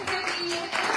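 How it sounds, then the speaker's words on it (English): Audience applause breaks out briefly after a speaker's introduction at a Texans for Vaccine Choice event, a short burst of clapping. "let's give her a round of applause"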